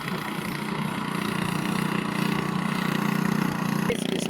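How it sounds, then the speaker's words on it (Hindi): A passing boat's diesel engine drones steadily at mid distance, a continuous low chugging hum that holds level throughout, with outdoor rural ambience around it. "ये इंजन डीजल से चलने वाला है, इसमें डीजल फोड़ा जाता है फिर चलता है।"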